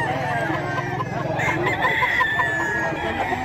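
Rooster crowing at a busy chicken market in Bocaue, a drawn-out crow rising over steady crowd chatter, clucking and market bustle, fairly close.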